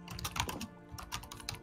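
Fast typing on a computer keyboard, a quick flurry of close key clicks with a brief pause in the middle, no voices.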